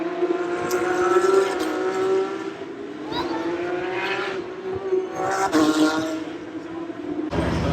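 Formula 1 race cars at the Canadian Grand Prix, heard from a grandstand. High, whining engine notes rise and fade as cars pass at a distance over a constant crowd and ambient rumble.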